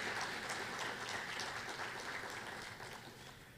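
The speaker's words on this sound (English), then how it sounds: "Let's give the panel another round of applause as they exit the stage." Audience applause at a symposium as the panel leaves the stage, a steady wash of many hands clapping at moderate distance that fades slightly toward the end.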